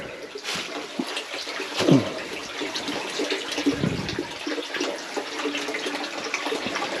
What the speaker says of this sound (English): Amount of water coming out of those 3 pipes.